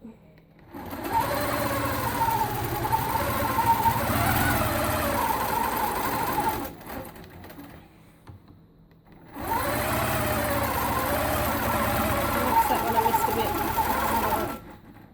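A longarm quilting machine runs in two steady bursts of stitching, a buzzing motor hum with a rapid needle rhythm, broken by a short pause around the middle, close and fairly loud.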